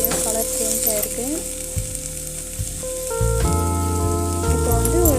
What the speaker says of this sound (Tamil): இப்போ பார்த்தீங்கன்னா பீன்ஸ் ஓரளவுக்கு நல்லா வதங்கி வச்சுருக்கு